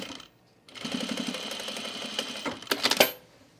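A sewing machine stitches a men's utility jacket from the right side in a short close burst of rapid mechanical clatter, ending in a few sharper clicks.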